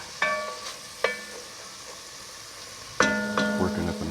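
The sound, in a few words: stirring browned onions in a pot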